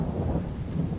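A thunderstorm rumbles in a farming video game, low rolling thunder over a steady hiss of rain, continuous and fairly loud with no voices.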